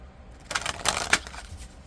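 A deck of tarot cards is shuffled by hand in a soft, brief papery riffle lasting about a second, close and quiet, with no talk.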